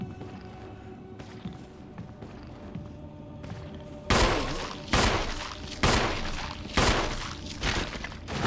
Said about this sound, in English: Those were 4 shots